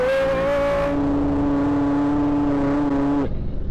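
A Ford Mustang GT 5.0 V8 convertible pulls hard from 4000 rpm, its engine a loud, steady droning roar that climbs in pitch, drops after a gear change, climbs again and then cuts off near the end, heard close from inside the car.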